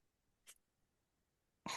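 A single short sneeze-like burst from a person, then quiet, then a louder onset that trails into another breathy outburst at the end.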